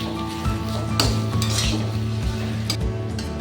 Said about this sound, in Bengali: এটাকে আবার একটু ভালো করে নেড়ে নিই দেখুন একদম শুকনো হয়ে গেছে